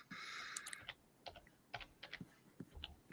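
Quick keystrokes clatter on a computer keyboard, irregular taps and clicks at close range after a brief high-pitched electronic tone, fairly faint against a quiet room.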